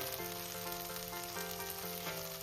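Spice masala sautéing bhuna-style in oil in a pan, a steady close sizzle and crackle with faint stirring, no voices.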